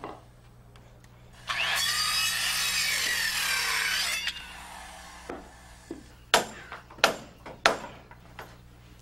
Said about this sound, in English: We just want to saw these ends down below the level of the sheeting.